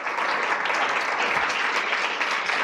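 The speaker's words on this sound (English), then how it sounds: "a round of applause for our in-person panelists and our virtual panelists" A crowd applauds panelists at a legal public interest event, with broad, sustained clapping from a full room, dense and steady from start to finish with no voices standing out.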